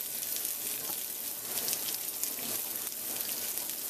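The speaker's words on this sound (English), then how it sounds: "we're going to go ahead and add our par cooked or halfway cooked potatoes" Onion and par-cooked potatoes frying in a pan give a continuous hissing sizzle like light rain, steady and moderately close, with no voices.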